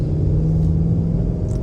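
A 2022 Ford Mustang GT with a 10-speed transmission rumbles at steady idle, a deep, close, continuous low-pitched engine burble with no talk over it.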